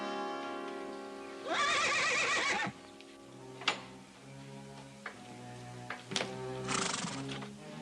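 A horse in a Western setting gives a loud, shivering whinny, then hooves clop and tick sparsely before a second whinny rises near the end.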